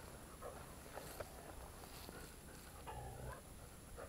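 A dog growls low and faintly on a nature hike through a game preserve, a brief rumble late in the clip over quiet outdoor ambience and soft footsteps.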